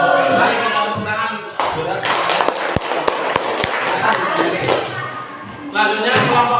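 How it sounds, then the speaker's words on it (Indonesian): Classroom audience of teachers clapping for a presenting group, scattered claps mixed with crowd murmur and voices, fairly close and moderately loud. "Mari kita tepuk tangan."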